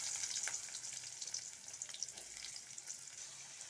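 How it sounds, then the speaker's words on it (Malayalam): Onions sizzle softly in hot coconut oil with popped mustard seeds, a steady, faint crackling fry with occasional small pops, no voices. "കടുക് പൊട്ടി വന്നാൽ നമ്മൾ എടുത്തു വെച്ചിരിക്കുന്ന സവാള ചേർത്ത് കൊടുക്കാം."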